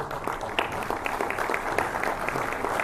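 Clapping breaks out in a Mexican legislative chamber during a deputy's report to lawmakers, fairly sparse individual claps over a dense room murmur, steady throughout.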